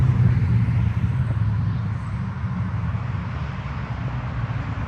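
Modded 2010 Corvette Grand Sport engine idles close by, a deep steady low rumble with no talk over it.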